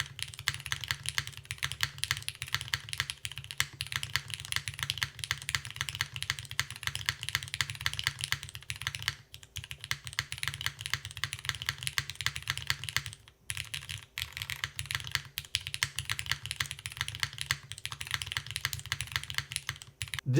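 Typing clatters steadily on a Dymium magnetic mechanical keyboard, a close, fast stream of key presses with brief pauses and no voice.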